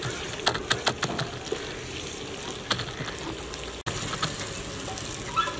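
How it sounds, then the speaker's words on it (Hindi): Masala spices for masoor dal sizzle and fry in a pan after a little water is added, a quiet steady crackle with soft bubbling and occasional sharp pops, with no talking. "थोड़ा सा पानी शामिल कर लेंगे ताकि मसाले हमारे अच्छे तरीके से फूल जाएं।"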